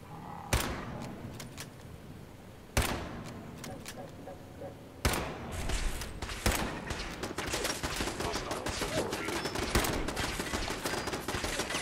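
Fallout 4 turret fire: three sharp, loud blasts spaced a couple of seconds apart, then a dense, continuous stream of rapid shots with clatter behind it.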